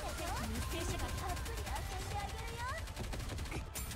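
Rapid bursts of gunfire from the video game NieR: Automata, dense and continuous across the whole stretch, layered with game sound effects and music, with no speech.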